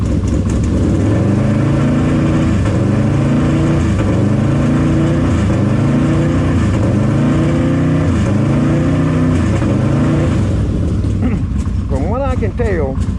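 Yamaha V-Max engine revving hard in repeated rising pulls, each sharply cut short by an air shifter dropping the revs, loud and close, with a brief higher whine near the end.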